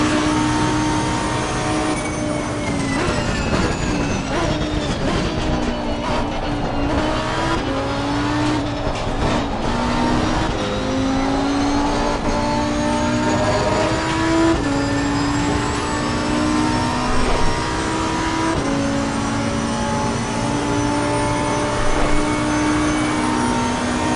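Race car engine screaming at high revs in Assetto Corsa Competizione, loud and continuous from inside the cockpit, with rising pitch through the gears, sharp shift drops and steady full-throttle howl, no voices.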